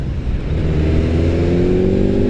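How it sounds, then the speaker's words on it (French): A Kawasaki Z four-cylinder motorcycle accelerating hard in fifth gear, a loud, close engine note rising smoothly in pitch as the revs climb, with no talk over it. "Si j'accélère, ça part tout de suite."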